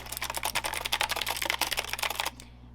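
Rapid typing on a cheap budget keyboard from a beginner build, a steady run of close clicky keystrokes that stops abruptly near the end, leaving only a faint hum.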